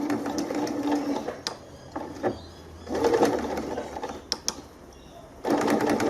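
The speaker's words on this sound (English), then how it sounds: "I'm going to sew across the bottom of the bag" A Pfaff Ambition 630 sewing machine stitches a seam across the bottom of a fabric bag, its motor whirring in several steady bursts separated by short pauses and a few sharp clicks.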